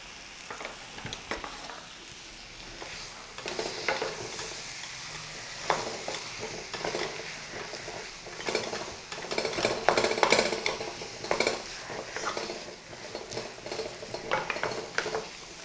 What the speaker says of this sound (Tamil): இந்த உருளைக்கிழங்கு மசாலா எல்லாமே ஒன்றா பிடிக்கணும். அந்த அளவுக்கு இதை கொஞ்சம் கிளறி விடணும்.